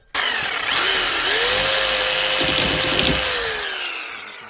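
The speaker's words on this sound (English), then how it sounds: "we'll try a jigsaw" A jigsaw cuts through wood for a chicken tractor build, a loud, steady motor whine with a buzzing reciprocating rasp that starts abruptly and runs continuously, close up, before easing slightly toward the end.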